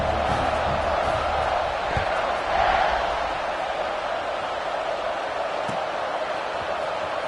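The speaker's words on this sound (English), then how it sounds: "this crowd is buzzing after that last score" A college football stadium crowd buzzes steadily after a score, a dense, continuous roar of many voices holding at an even level for the whole stretch, with a brief swell partway through and a couple of faint thumps.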